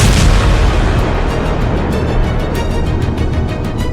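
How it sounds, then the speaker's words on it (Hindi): Loud, continuous rumbling bomb blasts and booms from an Israeli airstrike roll together into a heavy roar, with crackling bursts layered on top and no pauses. "ताबड़तोड़ बम धमाका, आसमान तक आग, काला खौफनाक धुआं।"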